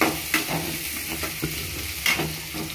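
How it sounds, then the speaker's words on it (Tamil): Onions, grated coconut and dried red chilies being sautéed and stirred in a pan for a Sauraashtra-style mutton fry, a soft steady sizzle broken by a few scraping stirs, close by with no talking. "வெங்காயம், மிளகாய் எல்லாம் நல்லா வதக்கிட்டு நல்லா பிறட்டும்"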